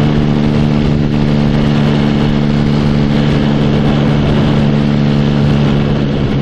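A motorcycle engine cruises in top gear at about 50 mph on an open road, giving a steady, loud, even drone with a constant pitch throughout and no talking.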